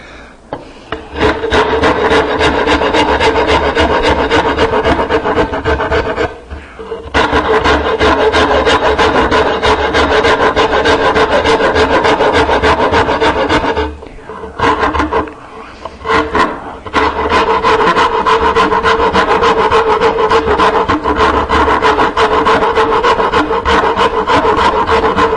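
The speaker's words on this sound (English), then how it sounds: "This is a cabinet maker's rasp. It's a Nicholson." A Nicholson No. 49 cabinet maker's rasp files wood on a knife caddy in a steady, loud stream of rhythmic rasping strokes, with two short pauses partway through.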